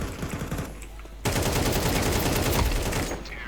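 Loud, steady rapid-fire shots in Counter-Strike 2, quieter at first and then sharply louder and continuous, dense automatic bursts close to the listener.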